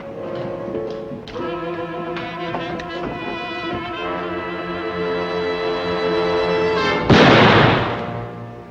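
Gunfire in a 1952 film: a loud boom bursts out near the end over a sustained orchestral music score, following a few softer thuds earlier in the scene.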